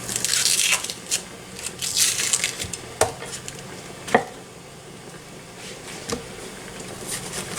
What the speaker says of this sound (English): don't like large pieces of onion in there, so I'll just dice it